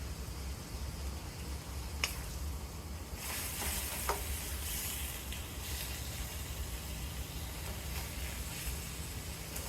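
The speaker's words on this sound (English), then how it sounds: "So I add the cornstarch, stir it so it doesn't clump up." Cornstarch is stirred into gravy in a hot pan, a continuous sizzling hiss with a few sharp clicks and scrapes of the spoon, steady and close with no voices.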